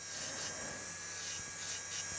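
An electric nail drill reshaping a misshapen nail around the cuticle area during nail prep for extensions or overlay, giving a steady close rasping, filing whine with no pauses and no talk.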